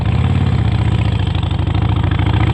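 A Harley-Davidson Forty-Eight motorcycle engine running close by, a loud, steady, low throbbing idle with an even rapid pulse and no voices.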